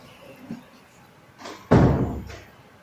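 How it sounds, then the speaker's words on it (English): A closet door in a bedroom slams once, loud and close, after a few faint knocks and rustles, with a short fading tail. "Sounds like her closet door though."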